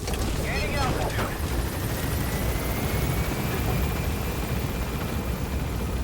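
A helicopter in Metal Gear Solid V: The Phantom Pain climbs with a continuous heavy rotor thump and turbine whine, loud and steady throughout, with brief faint chatter early on.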